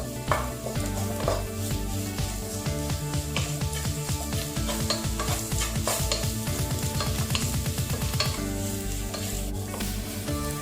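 Turmeric and garam masala sautéed in a pan for tomato rice, a close sizzle under busy rhythmic scraping and stirring of a utensil against the pan, without any voices.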